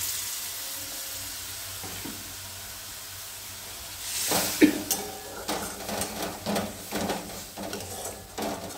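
A splash of water hitting hot frying spices in a pan for potato curry (alur dum): a quiet hiss at first, then a sudden loud sizzle, followed by bubbling crackles that pulse unevenly.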